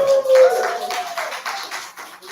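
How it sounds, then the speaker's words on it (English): Applause from a crowd at a live pop-up gallery event in New York, scattered hand claps and cheers rising after a short spoken line, fairly close and uneven, fading and swelling over a couple of seconds. "People, a big applause."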